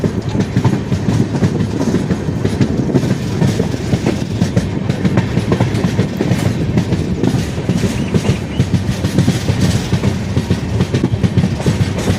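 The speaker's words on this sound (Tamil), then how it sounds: "நமது ரயில் கிருஷ்ணா ரயில் நிலையத்தை விட்டு புறப்பட்டு விட்டது." A long-distance passenger train running through the South Central Railway's Guntakal division after leaving Krishna station rumbles steadily from inside, with dense rolling wheel noise and continuous rattle and clatter, loud and unbroken, with no voices.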